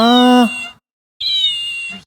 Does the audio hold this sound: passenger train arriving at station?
no